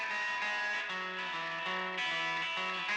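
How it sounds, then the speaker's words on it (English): An electric guitar rings through a heavily distorted, effects-laden tone from a Dist COLDFIRE distortion pedal, chords sustaining thickly with little pause between changes. "So we've got various distortion types here."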